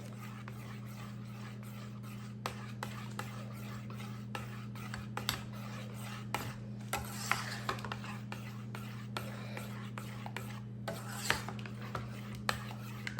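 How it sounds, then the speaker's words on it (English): Vanilla and cinnamon are stirred into a mixture during holiday meal prep, with soft, repeated scraping and rubbing strokes and occasional light clinks over a steady low electrical hum. "Stir, once you add those, the vanilla and the cinnamon, you wanna stir really, really well."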